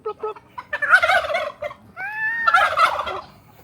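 A turkey gobbles twice nearby outdoors in the Philippines, each burst a loud warbling rattle of rapid throaty notes, with quieter clucks and fowl sounds between calls.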